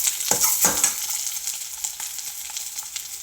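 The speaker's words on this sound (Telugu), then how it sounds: "ఇంకా ఎగ్స్ వేగుతూ ఉన్నాయి అన్నమాట" Eggs frying with onions in a pan for egg pulusu, giving a steady bright sizzle throughout, with a couple of louder stirring scrapes near the start.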